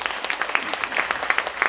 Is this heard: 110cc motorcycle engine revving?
no